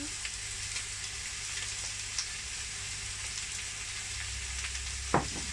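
Noodles for chicken pad kee mao stir-fry in a hot pan, a steady bright sizzle with soft scraping stirs and one sharper clack near the end.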